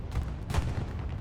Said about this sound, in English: Explosion down here in the west.